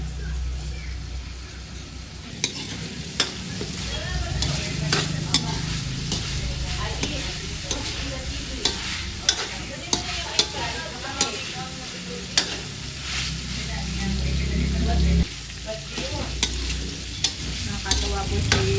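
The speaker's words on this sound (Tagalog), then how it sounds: "Piniprito ko na rin itong kikiam." Kikiam fish balls fry in a pan with a constant loud sizzle and crackle, broken by scattered clicks of a utensil stirring them, while voices murmur faintly in the background.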